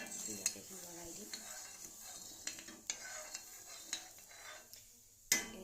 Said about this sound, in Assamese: এতিয়া মই ধুনীয়াকৈ লৰাই দিম